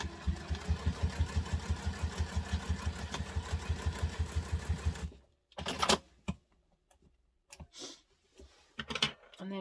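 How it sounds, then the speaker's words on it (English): A sewing machine stitches across the bottom of a fabric wristlet in a fast, steady run of rapid needle beats for about five seconds, then stops, leaving scattered handling clicks and rustles. "I literally sew the bottom there."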